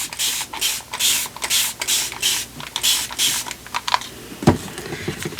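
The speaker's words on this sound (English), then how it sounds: "And then spray a little bit." A spray bottle mists paint or water onto an art journal page in a string of short hissing bursts, close and fairly loud, with a few small handling knocks between them.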